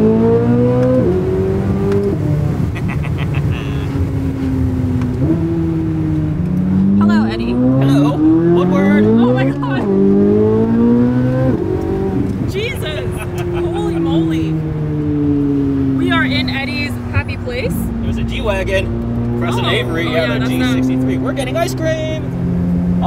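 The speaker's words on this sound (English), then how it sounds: "Let's hear some of those revs." A warmed-up Z06 sports car engine revs repeatedly, pitch climbing and dropping in loud surges, idling between bursts, close and continuous throughout.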